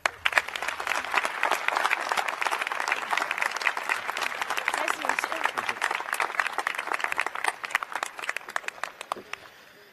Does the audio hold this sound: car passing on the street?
no